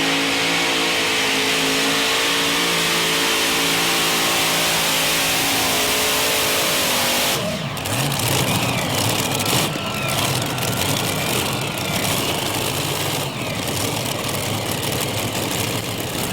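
A modified pulling tractor named The Spook roars at the starting line of a 1996 Bowling Green tractor pull, its engine holding a loud steady rev, then surging into a rougher, harsher blast partway through.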